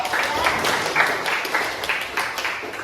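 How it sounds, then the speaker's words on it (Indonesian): A group claps together in steady, lively applause that carries on throughout, with a few voices mixed in. "tepuk tangan dulu buat Ari"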